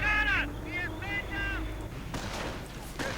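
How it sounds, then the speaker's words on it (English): A grenade blast in a World War II–style real-time strategy match between airborne troops and grenadiers, a sharp broadband burst late in the moment over ongoing battle noise and a commentator's voice. "Oh my goodness, that was a great grenade."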